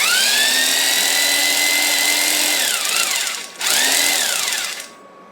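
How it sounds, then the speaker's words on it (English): A 1/2-inch saber saw runs off a Redodo 12.8 V 120 Ah LiFePO4 battery, its motor giving a loud steady whine that winds down, starts up again briefly and then stops. "this thing is, a saber saw, 1/2 inch saber saw"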